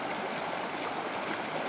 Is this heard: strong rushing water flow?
yes